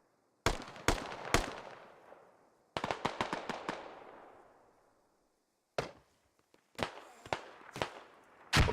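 Gunfire in a squad shooter game: loud sharp shots ring out in short bursts of three to five, each trailing a long fading echo, with gaps of near silence between groups.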